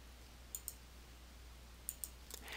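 Two pairs of sharp mouse clicks on a Windows 8.1 computer, close and quiet, each pair a quick double tick, set against a low steady hum with no voices.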